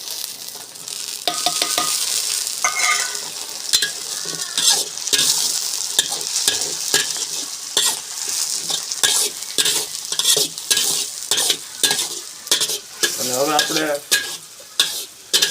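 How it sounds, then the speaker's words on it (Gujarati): Cabbage and chopped tomatoes stir-fried in a pan for mung bean pulao, with a steady sizzle and repeated sharp scrapes and clinks of a spoon stirring against the pan throughout. "આપણે એમાં કોબી નાખી દીધી છે કોબી તે ફ્રાય થઈ ગઈ છે"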